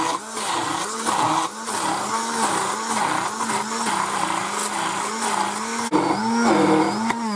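A kitchen blender whirs loudly and steadily as it purées shrimp pâté with cream cheese, its motor pitch rising and falling in a regular pulsing wobble, with a brief jolt near the end. No one speaks.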